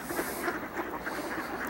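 Ducks quacking on a snowy winter day outdoors, a steady mix of overlapping calls from a flock nearby at moderate loudness, with no talk.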